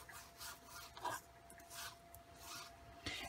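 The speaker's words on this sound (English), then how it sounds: "I'm just going to lightly rub it across the image like so" Midnight blue ink is rubbed lightly across an embossed butterfly card image, giving soft, close scuffing strokes in an irregular rhythm over a faint background hum.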